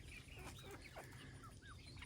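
Rhode Island Red chickens clucking softly on a homestead, several short, quiet clucks and chirpy calls over a low background hum.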